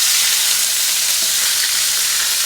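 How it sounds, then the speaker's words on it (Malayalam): Onion, green chilli, ginger and garlic sautéing in a pan at a Kerala street food stall, a loud, steady, close sizzle of frying throughout with no talking. "ഉള്ളി, പച്ചമുളക്, ഇഞ്ചി, വെളുത്തുള്ളി ഇത് ഇത്രയും കൂടി ഇട്ട് നമ്മൾ വാട്ടിയെടുക്കും."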